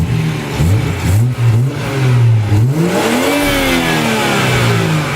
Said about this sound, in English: So this is going to be a little intake clip of the stock intake. Let's get a little rev of the sound.